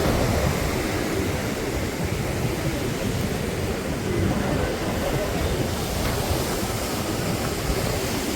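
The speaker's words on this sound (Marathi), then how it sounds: "आपण अरबी समुद्र पाहत आहात या आहे अरबी समुद्राची खाडी आहे" Arabian Sea waves at a creek near Worli, Mumbai, make a continuous, even broadband wash of surf, fairly loud and unbroken throughout, with no clear talk.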